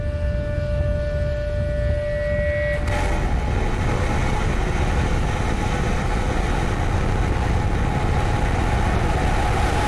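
A race car motor runs loudly and steadily up close, a dense continuous engine roar with a tonal whine that fades after a few seconds, with no voices.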